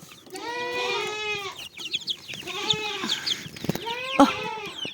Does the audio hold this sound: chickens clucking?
yes